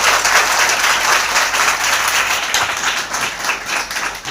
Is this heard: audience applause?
yes